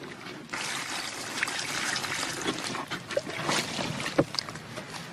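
Water is poured into a hole lined with plastic, giving a continuous splashing trickle with crinkling plastic close by, and one sharper knock near the end.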